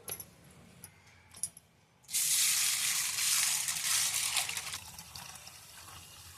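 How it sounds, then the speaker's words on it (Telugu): Foxtail millet and urad dal being rinsed by hand in water, a loud steady swishing and sloshing that starts abruptly and continues, with faint clinks before it. "వీటిని నీళ్లు పోసుకొని 3-4 సార్లు బాగా శుభ్రంగా కడుక్కోవాలండి."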